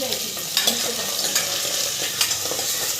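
Mutton fat frying in a small amount of oil, a steady close sizzle with occasional stirring scrapes and brief louder crackles spread through.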